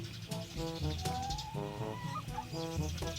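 A pair of Sasso chickens, a hen and a rooster, in a backyard farm cluck repeatedly in short rhythmic bursts, close and clear with no talk over them.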